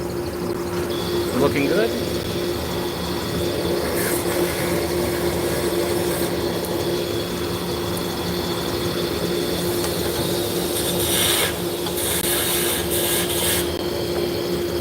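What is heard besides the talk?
wood lathe running after backing off tailstock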